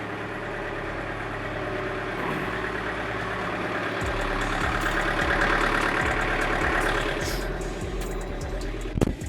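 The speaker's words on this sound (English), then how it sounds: "Man, this tractor's loud when it's cold." A cold tractor engine idles loudly and steadily at close range, its rough low rumble continuing throughout with a few knocks near the end.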